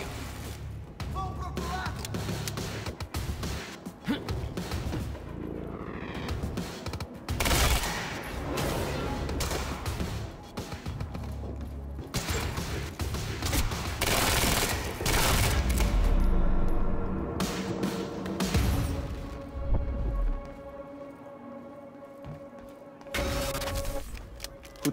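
Monarch soldiers fire on the player in the video game Quantum Break, with bursts of loud automatic gunfire and booming impacts recurring throughout, while voices talk over the shooting.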